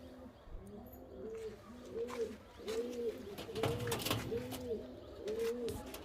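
Loft pigeons coo repeatedly in a steady rhythm of throaty rising-falling calls, several birds overlapping, fairly faint amid light background noise.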